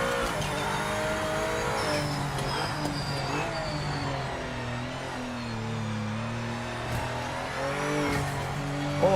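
Race car engine in the Project Motor Racing video game, a steady droning roar with shifting pitch as the car runs on cold tires, close and continuous throughout with no talk over it.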